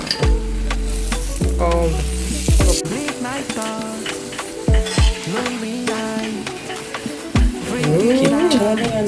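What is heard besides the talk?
butternut chapati frying in oil on pan, being turned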